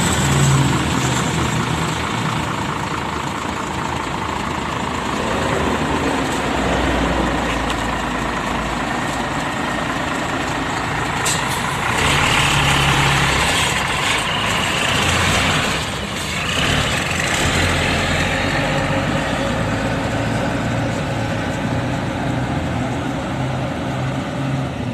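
A Prima bus engine runs heavy and low at the Gubug bus terminal as the bus prepares to pull out, a steady loud rumble with a brief hiss like an air brake partway through and no talk.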